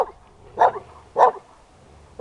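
A dog barks three times at a steady pace, each bark short and clear against a quiet background.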